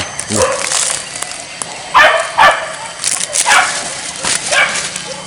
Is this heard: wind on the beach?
no